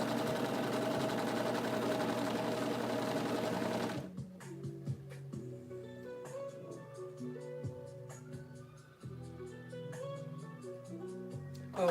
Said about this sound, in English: real quick so we can just serge this up